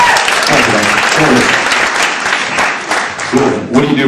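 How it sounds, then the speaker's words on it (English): Comedy club audience applauding as a volunteer is called up on stage, a dense sustained wash of clapping at close range with brief voices and whoops mixed in. "Give Vanessa a big round of applause."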